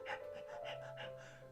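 A human voice imitates a dog panting hot, with quick rhythmic breathy huffs repeated about five times, close and soft.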